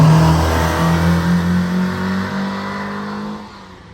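A Hillman Imp converted with a motorcycle engine of around 120 brake horsepower revving, a loud, rising and falling engine note close by that eases off and fades toward the end.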